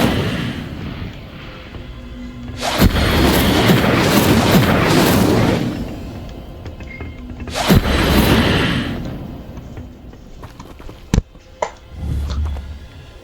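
A fire spell, Incendio, is cast in a magic-school video game, producing two loud whooshing, roaring bursts that each swell and fade over a couple of seconds, followed by a few sharp pops and a low rumble.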